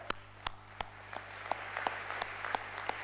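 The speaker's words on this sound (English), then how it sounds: "Could we give them a round of applause?" Scattered claps from an audience at a peace convention closing plenary honoring international participants: a handful of sharp, separate hand claps at roughly even intervals over a faint background, sparse rather than a full ovation.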